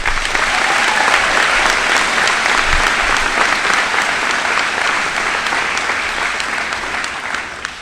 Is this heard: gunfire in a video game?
no